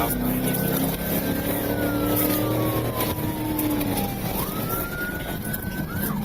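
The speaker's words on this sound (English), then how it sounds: "they activated their emergency lights and sirens" A police car's wailing siren rises and falls steadily over a continuous engine rumble and road noise during a high-speed chase, fairly close and persistent throughout.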